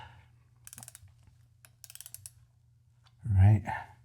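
Ratcheting clicks from a torque wrench tightening Jeep Rubicon steel-bumper winch bolts, two short bursts of rapid clicks near the mic, followed by a brief voice at the end.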